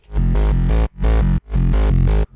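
Deep drum and bass synth bass made in Phase Plant, notes pulsing in a repeating rhythm, each swelling in then cutting off, with a gliding pitch movement.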